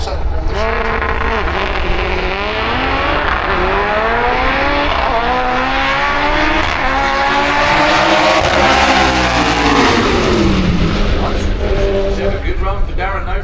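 A front-wheel-drive drag car at Santa Pod Raceway's Festival of Power makes a loud, continuous engine roar whose pitch climbs and sweeps as it revs hard through a quarter-mile run, with a faint background of voices.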